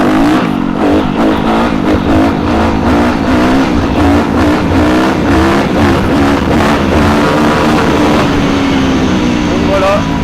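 Yamaha YZF 250 motorcycle engine revving hard and climbing through the gears while held in a wheelie, loud and close, with repeated rising pitch sweeps at each gear change.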